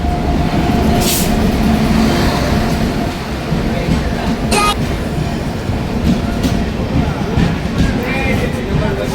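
Padatik Express pulling into platform one at Jalpaiguri station, a steady loud rumble of carriages with sharp squeals and hiss bursts, people talking nearby under the continuous noise.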